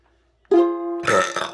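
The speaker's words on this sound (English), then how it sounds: "Oh, I'm just having really good burps." A single loud, drawn-out burp from a person, tonal and voiced, starting abruptly and roughening into a raspy tail over about a second, close to the mic with no talk.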